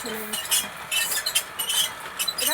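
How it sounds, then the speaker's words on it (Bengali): Raw rice stirred in a hot dry pan to make puffed rice, giving bursts of rasping, crackling scrapes in uneven strokes, close and moderately loud with brief pauses between. "যেমন কড়াই হিট দেবে তেমনই চপ চপ করে চাল উঠে যাবে"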